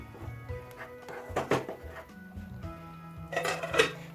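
Fish curry with poppy seed stirred in a pan: irregular metal spoon scrapes and clinks against the pan, a few sharper knocks in bursts, fairly close and moderately quiet.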